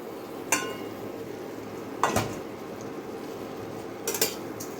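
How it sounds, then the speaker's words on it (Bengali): Snakehead fish being added to a pan of softened tomatoes and onions: three separate metallic clinks and scrapes of utensil against pan, spaced apart over a low, steady background hiss. "এবার দেখো সব মাছগুলো আমি দিয়ে দেবো"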